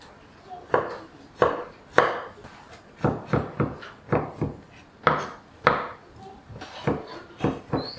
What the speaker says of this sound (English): Chop garlic up.